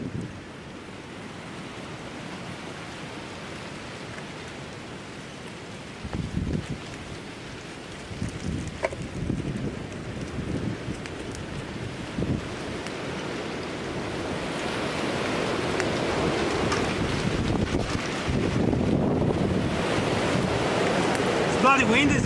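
Strong outdoor wind buffeting the microphone beside a campfire being built for cooking sausage and beans, a steady roaring rumble that swells louder toward the end, with a few brief thumps and crackles.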